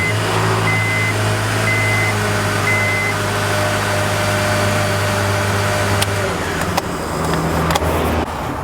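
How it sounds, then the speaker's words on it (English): A car engine runs steadily after an oil change, a loud, close hum that holds for most of the clip, then shifts in tone near the end. "We're going to start the vehicle. We're going to let the oil circulate for about 5 seconds."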